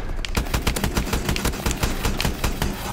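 Rapid, steady bursts of automatic gunfire from an EPM3 in Call of Duty Advanced Warfare, loud, close and continuous for the whole stretch with no talk over it.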